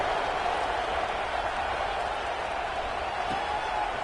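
Stadium crowd in a football video game cheering steadily after the first offensive possession, a broad, dense roar that holds at an even level for the whole stretch with no clear voices standing out.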